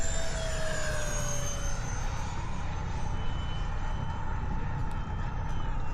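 A low, slow pass down the runway at Fritz Field by an airplane, its steady engine roar droning loudly and continuously with a gradually shifting pitch.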